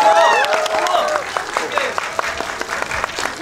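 Cinema audience applauding as a film director and cast walk on stage for a greeting, a steady patter of many hands with a voice speaking over the opening moments, moderately loud throughout.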